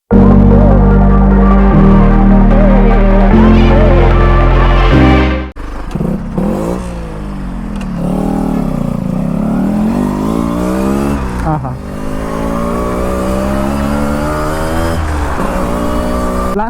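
A Yamaha RX100 two-stroke motorcycle with an expansion chamber exhaust revs and pops loudly close by, its rising and falling engine note following a few seconds of music.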